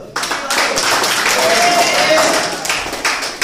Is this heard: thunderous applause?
yes